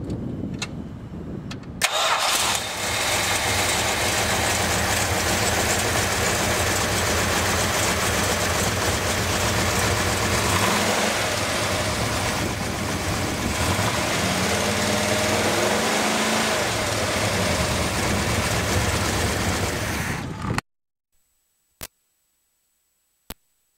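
A 1970 Dodge Hemi Challenger with an aftermarket cam cranks, fires and settles into a loud, lumpy idle that holds close for about twenty seconds, then cuts to silence broken by a few faint clicks.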